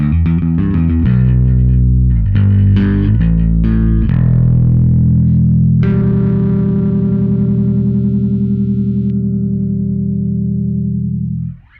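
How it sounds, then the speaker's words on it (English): Michael Kelly Vintage Element 4 bass guitar played with effects, a run of quick plucked notes followed by one long sustained note that rings loud and then cuts off, with no talking. "let's spend a little bit more time getting a few different styles and sounds out of this bass."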